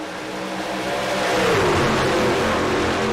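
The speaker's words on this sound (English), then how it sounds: "Love hearing those engines spool up and the guys shifting gears," Race car engines at Atlanta Motor Speedway build in pitch and loudness as the cars spool up and shift through gears, a steady close rising roar without talking.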